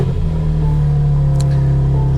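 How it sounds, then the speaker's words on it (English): A BMW M2 CS idles and revs with the M exhaust open, a steady deep engine drone with a strong low hum and a slight rise in pitch, loud and close with no voices. "The M exhaust is on right now, so it's a little bit louder"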